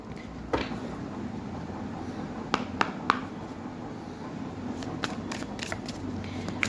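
Tarot cards riffled and shuffled by hand, then several cards drawn and laid out, giving soft papery rustling with a handful of sharp snaps and taps, close and quiet against a faint room hiss.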